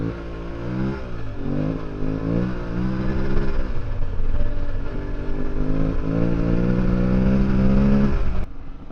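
An old Aprilia Tuareg motorcycle engine revs hard above 5,000 RPM on a ride over mud and sand, a loud, close, continuous engine roar whose pitch climbs and falls with the throttle before cutting off abruptly at the end.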